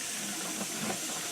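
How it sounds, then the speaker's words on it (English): A cold water tap runs steadily into a sink, a continuous broadband rushing hiss at moderate level throughout with no talking. "We're going to turn the water on."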